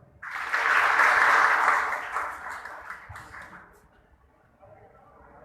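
A crowd of people at a school building committee event claps loudly together for a couple of seconds, the applause then tapering into scattered claps and quiet room noise.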